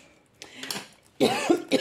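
A person coughs at close range while working on a diamond painting craft project. There is a soft throat sound at first, then two harsh, loud coughs in quick succession.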